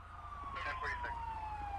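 An ambulance siren in a GTA V police scene wails as a single falling tone at moderate distance, heard faintly alongside brief voices.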